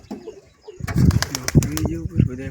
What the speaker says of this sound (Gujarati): ઉપર બધા કબૂતર આવી ગઈ હતી